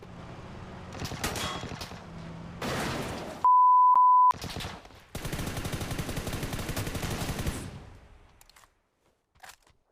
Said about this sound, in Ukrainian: зараз мене стрелять